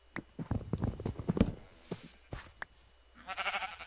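Minecraft sheep let out several short bleats in quick succession, followed by a burst of hissy game noise, with no talk.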